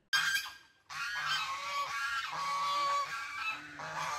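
An aggressive goose honks loudly while attacking a woman out walking her dog, giving several harsh, close honks in quick succession after a brief pause near the start.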